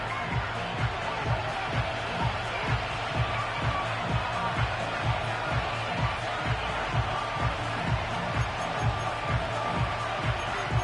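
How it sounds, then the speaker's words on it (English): A stadium crowd in an EA Sports football video game murmurs and roars as a steady wash of noise, with a rhythmic low thumping beat repeating underneath at a moderate level. "The crowd is definitely ready."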